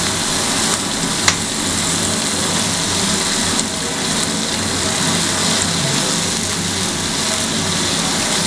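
Potatoes and onion fry in a pan with a constant loud sizzle, and a utensil occasionally scrapes and clicks as the food is stirred, no voices.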